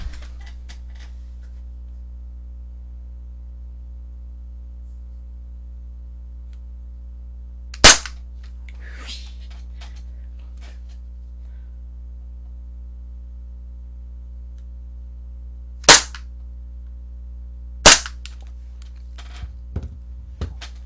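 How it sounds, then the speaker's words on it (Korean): A gas-powered MAD MAX double-barrel airsoft shotgun is test-fired: three sharp, loud pops spaced seconds apart, with faint mechanical clicks and handling noise between shots over a low hum. "발사를 테스트 발사를 해볼까요?"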